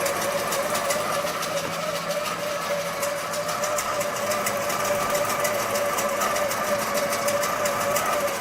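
A Butler Robotics longarm quilting machine stitches a swirl pattern with a fast, steady mechanical whir and rapid needle ticking that runs unbroken at an even level throughout.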